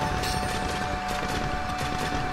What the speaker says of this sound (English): Boom. Double shot.